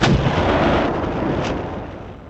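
Cannon fire in a crusader-era RPG mod set in the 14th century: one loud, heavy boom at the start that fades slowly into a long rumbling tail.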